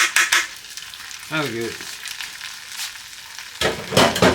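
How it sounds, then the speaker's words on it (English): Creamed corn with a splash of cream fries and sizzles steadily in a pan while being stirred with scraping strokes. A voice briefly speaks over it. "Just kind of fry it a little bit, just get it all hot"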